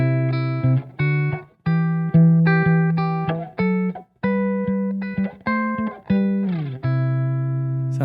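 Electric guitar through an effects pedal with the tone control cranked plays a sequence of clean, bright sustained notes and short phrases, close and clear with no speech.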